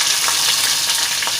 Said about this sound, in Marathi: राई आपली चांगली तडतडली पाहिजे